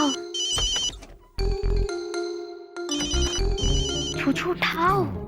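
A telephone rings with an incoming call indoors: a loud, close, melodic electronic ringtone repeats its bright tune several times with short breaks, without pause for the full length.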